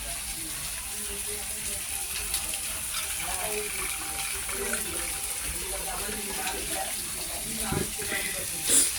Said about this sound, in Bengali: এবার আমি পরিমাণ মতো জল ঢেলে দেবো